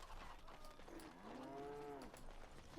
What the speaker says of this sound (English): Angry moo.